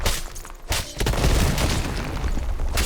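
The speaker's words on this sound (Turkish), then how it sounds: "Yere vurduktan sonra yukarıdan taşlar düşüyor" A cyclops slams the ground in the Dark and Darker video game, and rocks tumble down afterwards: a heavy, close boom is followed by a continuous crashing rumble of falling stone.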